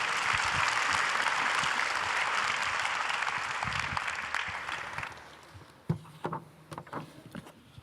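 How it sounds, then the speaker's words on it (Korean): A congregation at a Korean church Sunday service breaks into dense, warm applause to welcome a speaker. The clapping fades after about five seconds, leaving scattered claps and knocks. "우리 뜨겁게 우리 박수로 우리 환영하겠습니다."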